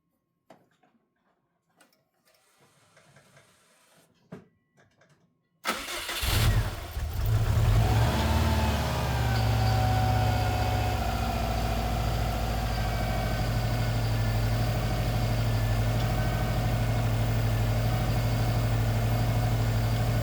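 A car engine cranks and fires on its first start after sitting for five days, then settles into a steady, loud, even idle that runs on alone after a few faint clicks and knocks.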